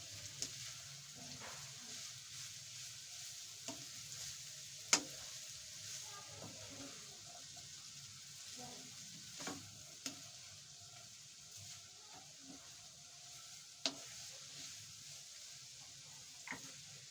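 Vegetable chow mein noodles being stir-fried in a pan, a soft steady sizzle with scattered sharp clinks and scrapes of a utensil against the pan at irregular intervals, no talking.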